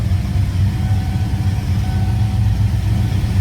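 A 1995 Saleen S351 Mustang engine idles around 900 rpm with a steady, deep, close burble and even pulsing, heard alone with no talking.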